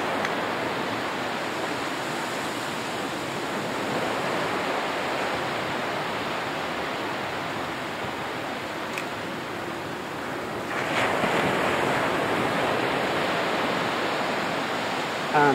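Sea waves breaking on a shore, a steady broadband wash of surf that grows louder near the end as a bigger wave rolls in, continuous and close.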